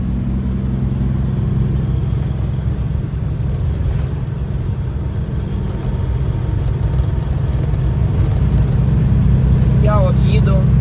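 A car cruising along an interstate highway through Illinois toward Indianapolis, heard from inside as a loud, steady road and engine rumble with tyre drone, and a faint passing whine near the end.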